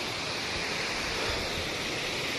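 Rushing water at Tirathgarh waterfall in a Chhattisgarh forest: a steady, even roar of falling water that fills the whole clip without letting up.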